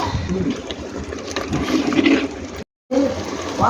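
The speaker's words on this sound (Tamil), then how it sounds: "இப்போ தண்ணி ஊற்ற போகிறோம் சுடு தண்ணி ஊற்ற" Hot water is poured steadily into a clay pot of village-style mutton water curry, a continuous splashing rush that cuts out completely for a moment before resuming.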